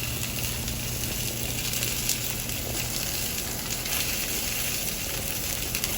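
Salmon fillet sizzling in a hot pan, a steady, close crackling hiss that runs evenly throughout with no voices.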